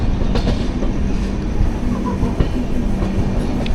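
The Somnath-Okha Express rolls into Junagadh station, heard from on board as a steady rumble of wheels and carriages with faint rhythmic clacks over the rail joints.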